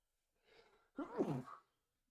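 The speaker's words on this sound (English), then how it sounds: "I got to sneeze" A single sneeze, a soft intake of breath followed by a sharp burst, heard up close in an otherwise quiet room.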